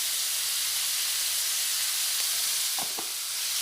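Potatoes fry in a pan in a steady, bright hiss of hot oil, close and even throughout, with a couple of brief utensil knocks near the end and no talking.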